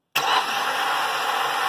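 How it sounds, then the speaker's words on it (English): After a moment of silence, the starter motor of a K24-swapped Honda Insight whirs up and keeps spinning with a steady, gritty whine, failing to turn the engine, which never catches. "So the starter just turns."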